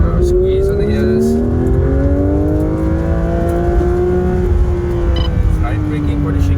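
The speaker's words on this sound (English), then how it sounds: "Now squeeze on the gas." A Porsche sports car accelerates hard on a track, its engine note climbing steadily in pitch, loud and close throughout with constant road and wind roar underneath.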